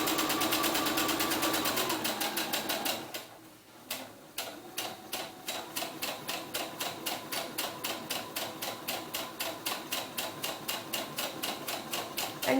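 Close-up sewing machine running steadily as it stitches a seam in fabric for a doll-hair bun maker, first a continuous whir, then after a brief pause a regular, rapid train of stitch clunks, with no voices.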